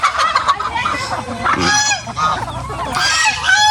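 A close, noisy flock of poultry: geese honking over chickens and turkeys, calls overlapping continuously.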